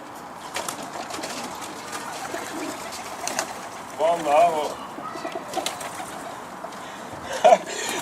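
A homing pigeon with a taped wing, back after two days away, gives a short soft coo nearby, with a second brief call later, amid quiet room noise and a man's occasional speech.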